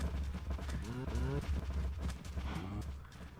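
Cows low in a barn inside a video game, with several drawn-out moos overlapping each other in close succession over a steady low rumble.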